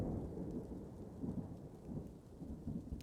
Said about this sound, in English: Looks like it's raining.